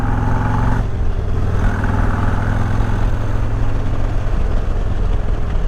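Car engine idling through a newly fitted exhaust tip, a steady loud low rumble that is rougher for the first second and then settles into a smoother, more subdued drone, with no voices.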